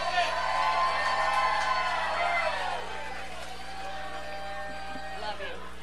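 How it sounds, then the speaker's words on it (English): A live crowd applauds and cheers at W.B. Walker's Old Soul Radio Show four-year anniversary show, with scattered whoops in a dense wash for about three seconds before it thins to a quieter, lingering murmur. "Let's give a big round of applause for Melissa Stillwell right now."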